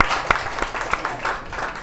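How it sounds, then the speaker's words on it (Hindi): Audience at a physics quiz held at a coaching academy in Prayagraj claps for a student, a short burst of scattered applause with a few sharper individual claps standing out. "जोरदार ताली बजाया जाए बच्चे का।"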